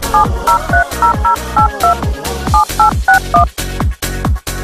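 Push-button phone keypad beeps as a mobile number is keyed in, a steady run of short, loud dual-tone presses with brief gaps between them, heard alone.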